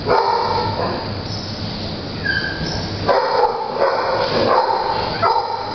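Several dogs bark and yip in a shelter kennel, a busy overlapping chorus of sharp barks with a few whimpers, moderately loud and continuous throughout.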